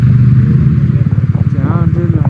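A BMW motorcycle on an off-road ride, its engine note rumbling close and rough with clattering pulses, while someone talks over it.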